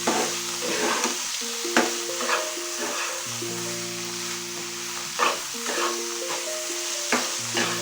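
Bottle gourd with poppy seed sizzles in a pan while being stirred, a continuous frying hiss broken by several scraping spatula strokes and soft knocks, with faint tonal background sounds.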